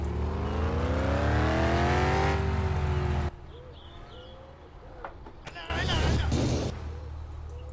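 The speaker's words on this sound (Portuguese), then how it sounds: "o carro passou na contramão" A car in My Summer Car roars past on the wrong side of the road, its engine loud and rising in pitch before cutting off abruptly, followed by quieter ambience with birds and a second brief burst of engine noise.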